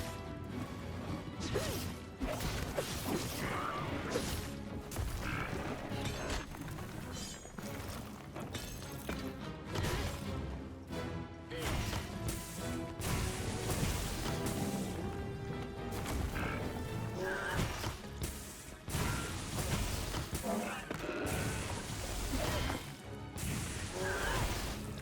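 Charge Blade attacks in Monster Hunter Wilds, with heavy slams and crashing impacts mixed with whooshes and mechanical clanks, dense and loud over continuous game noise and music for the whole stretch.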